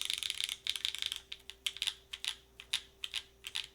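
Mechanical keyboard with Obscura switches, GMK keycaps, PC plate and no foam, typed on at a steady quick pace, producing crisp close clacks in short bursts, no talking.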